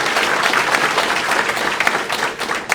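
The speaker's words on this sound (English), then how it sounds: "Can we give him a round of applause for that" Warrant Officer Jones gets a round of applause from an audience at a BQC class graduation ceremony, a steady, dense crowd clapping that holds throughout and thins slightly near the end.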